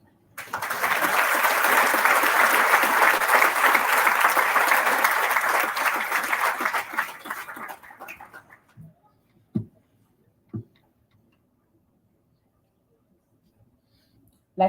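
Audience at a Bermuda sports awards evening applauds junior male and female athletes of the year, a dense sustained round of clapping that fades out after about eight seconds, followed by a few faint knocks and near silence.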